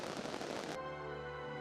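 A dense burst of crackling fireworks launched from a riverbank at the Toyohashi Gion Festival, Japan, pops loudly for under a second, then cuts off, leaving a low steady hum.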